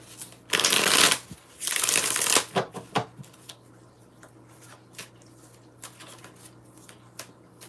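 A deck of cards is riffled twice in loud, rapid fluttering bursts, followed by scattered taps and soft shuffles as the cards are squared up.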